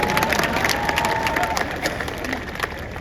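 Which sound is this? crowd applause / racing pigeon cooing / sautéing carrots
crowd applause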